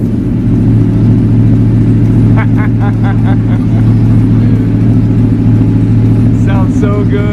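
A custom Aprilia Tuono motorcycle engine runs loud and close with a deep steady rumble, with a few quick throttle blips midway and near the end, while voices talk over it.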